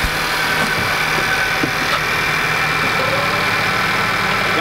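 2003 Subaru WRX engine, a steady mid-pitched idle with a faint knocking vibration, close and continuous with no talk over it.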